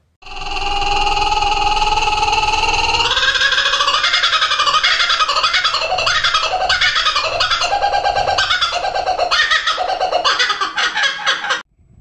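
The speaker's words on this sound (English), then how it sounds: "Now look at the video of laughing kookaburra." Laughing kookaburra calling: a loud, close, continuous cackling chorus of rapid rising and falling hoots and chuckles that builds into rhythmic laughter for about ten seconds, then cuts off abruptly, with no speech.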